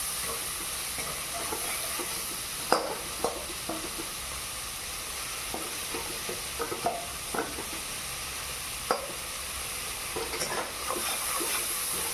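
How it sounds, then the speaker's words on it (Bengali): Spices frying in a pan for vegetarian pea ghugni, a steady soft sizzle with scattered stirring scrapes and clicks, close and moderately quiet, with no voices. "মশলা ভাজা ভাজা হয়ে গেছে"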